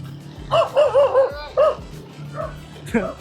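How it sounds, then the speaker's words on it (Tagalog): Several dogs bark and yip in short bursts on a farm, close by, with a whimpering tone and some background voices between the barks. "Ang daming aso dito."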